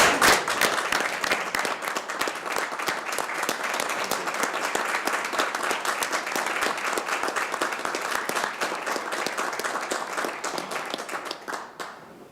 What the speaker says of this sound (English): we do owe you a hearty round of applause